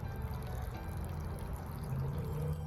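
Trapped water draining out in a steady pour and trickle, a continuous close stream with a low gurgling rumble underneath, running alone without voices.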